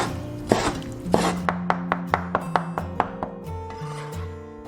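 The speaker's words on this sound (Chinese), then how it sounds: "准备小块肥膘肉切末。" A knife chops small pieces of pork back fat into mince on a board, a steady run of about ten sharp, evenly spaced thuds after a couple of looser strikes, close and clear.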